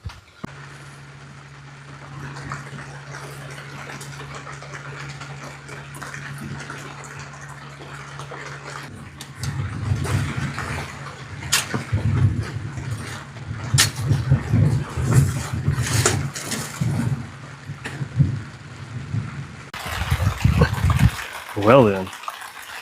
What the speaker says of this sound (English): I know this rain's gonna be loud on this tarp